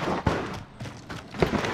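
Sniper rifle fire in a first-person shooter video game: two sharp, loud shots about a second apart, set against busy game ambience.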